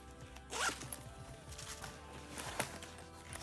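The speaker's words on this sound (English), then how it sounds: "You have this zippered pocket." Zipper pulled along the pocket of a thrift-store bag, a quick zip with a loud burst near the start and a second, shorter pull later, close up and with no talking.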